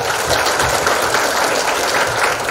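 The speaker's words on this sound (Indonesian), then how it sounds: "Tepuk tangan buat kita semua." Children at a kindergarten orientation in Makassar clap together in a dense, continuous patter of many small hands, steady and fairly loud throughout.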